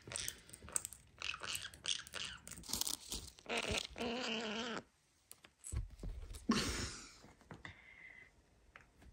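Crisp crunching bites of fried dumplings repeat near the microphone, loud and close, with brief pauses and a few soft voices between.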